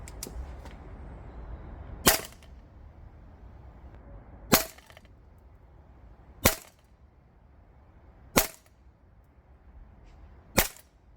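Double Eagle Noveske N4 MWS gas blowback airsoft rifle on green gas firing 0.2 g BBs outdoors in cold autumn weather, five sharp cracking shots spaced about two seconds apart.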